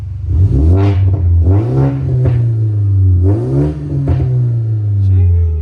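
A 2021 BMW 330i with an aftermarket downpipe revs loudly in several short bursts with a deep, raspy exhaust note, close by, rising and falling between blips.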